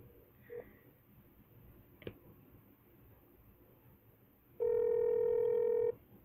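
A phone gives a single long electronic tone with steady harmonics lasting about a second, fairly loud against quiet room noise, after a brief faint click and chirp.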